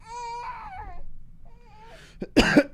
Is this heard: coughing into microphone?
yes